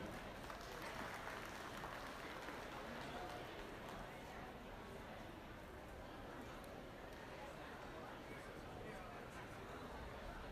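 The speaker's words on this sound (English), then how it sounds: "Let's give him a big round of applause" An audience at a junior market goat show gives the judge a round of applause, faint, steady clapping spread across a large space for about ten seconds.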